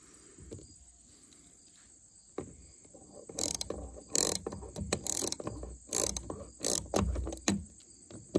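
A wrench ratcheting on the bulkhead door of an S-144 shelter, sparse at first then several short, crisp clicking bursts with quiet knocks between, close and moderately loud over a faint steady whine.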